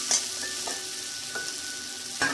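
Poppy seed and mustard paste fries in a pan over high flame, giving a steady close sizzle with a few brief scraping stirs.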